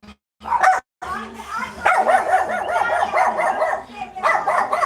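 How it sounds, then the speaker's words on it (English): A dog barks loudly and repeatedly in rapid bursts close to the listener, with brief pauses, and a person talks briefly at the start. "Prepare yourself for some loud barking,"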